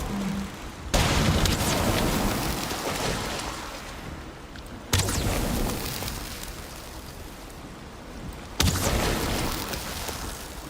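Three loud booming bursts from fireworks in the Viking survival game Valheim, each a sudden broadband blast at roughly four-second intervals, followed by a sustained crackling, rumbling tail, with no talk.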